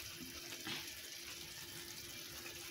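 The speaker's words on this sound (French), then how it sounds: "je vais rajouter un tout petit peu de l'eau" A small amount of water poured into a seafood tajine, a faint steady trickling stream heard close and alone, with no talk.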